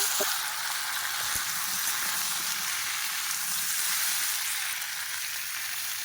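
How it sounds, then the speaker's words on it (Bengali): Chopped vegetables sizzle and fry steadily in hot oil with onion in a wok-style pan, a continuous loud hiss running throughout with a faint knock near the start. "কেটে রাখা সবজি দিয়ে দেবো"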